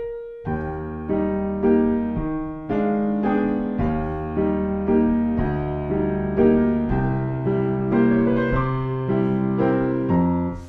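Piano chords and a bass line move together in a slow, even rhythm, each note struck at a similar loudness, with no talking.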